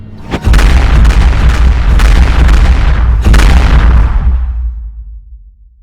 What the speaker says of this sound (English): Forward cannons armed, ready to fire.